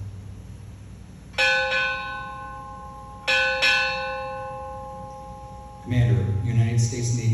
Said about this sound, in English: Boatswain, strike 4 bells.